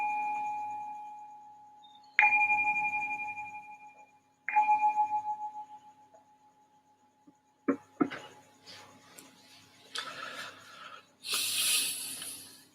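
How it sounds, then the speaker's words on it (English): A meditation bell is struck three times in a quiet room, each clear ringing tone sustaining and slowly fading, followed by soft rustling and shuffling sounds. "I'm going to just ring the bell to signal the start of our meditation."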